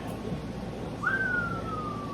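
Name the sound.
someone whistling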